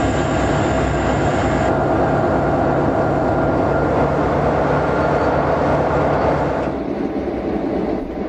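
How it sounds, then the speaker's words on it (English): A 1960s California Zephyr passenger train rolls along the tracks in Utah with a loud, steady rumble and wheel clatter that continues unbroken, thinning slightly near the end, with no voices. "The train arrives at Helper for a crew change and a window wipe."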